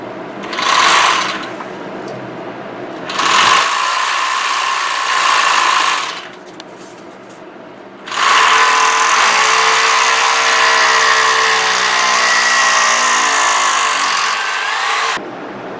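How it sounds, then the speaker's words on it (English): A hammer drill fitted with a concrete bit bores into a concrete block in three loud, close bursts: two short ones, then a longer run whose whining pitch shifts as it bites in, with brief quiet gaps between. "So we use a hammer drill with a concrete bit."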